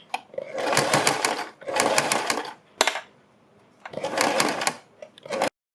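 A sewing machine stitches a folded fabric neckline in three runs of rapid, whirring stitching, each lasting over a second. A brief clack comes between the second and third runs, and a final short burst ends abruptly.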